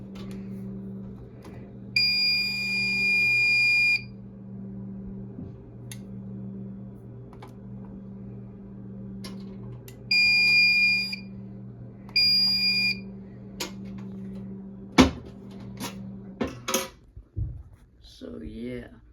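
System Sensor SpectrAlert fire alarm horn sounding during a home system test, with repeated loud tonal blasts in bursts over a steady low hum, followed by a few sharp clicks and thumps.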